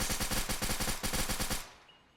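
Video game gunfire: one fast automatic burst of evenly spaced shots, loud and continuous for about a second and a half, then stopping abruptly into a brief fading tail.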